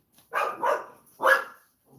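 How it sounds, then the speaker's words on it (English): A dog indoors barks three times, two close together and then one more after a short pause, loud and near with no talk over it. "My niece's dog."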